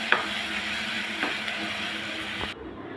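Jackfruit seeds and pointed gourd sizzle steadily in a frying pan while a spoon stirs them, with a continuous hiss and a few faint scraping knocks, close and alone.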